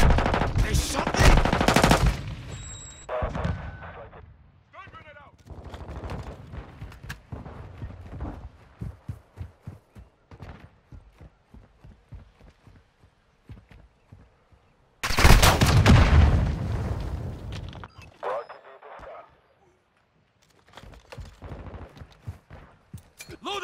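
Rapid gunfire in Call of Duty: Modern Warfare II, with dense bursts of automatic fire and shotgun blasts, loud crackling volleys, and sparser single shots between them. Brief game voice callouts can be heard.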